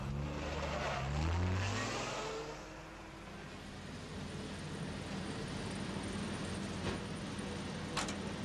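A car tailing another through Glasgow streets, its engine drone steady and close, a brief rising rev near the start, tyre and road noise continuing throughout with a couple of faint clicks.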